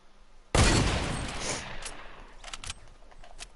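A single sharp gunshot cracks loudly in a Fortnite match, followed by a decaying tail and a few fainter shots and clicks in the background.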